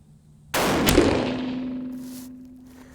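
A single loud rifle shot from a .350 Legend firing an experimental handload on a cool morning, a sharp blast followed by a long ringing decay, with no talk.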